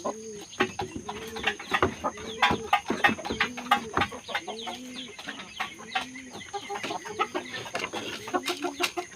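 Brazilian Asil breeder chickens kept on a farm cluck in short, repeated calls. Several nearby birds overlap in a busy rhythm over a faint steady hum, with soft scuffing in the background.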